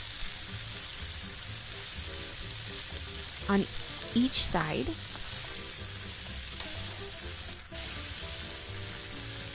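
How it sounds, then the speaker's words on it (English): Tofu cubes frying in a hot skillet, with a steady sizzle running throughout and a couple of brief clatters of stirring midway while a voice talks over it. "You hear that sizzle."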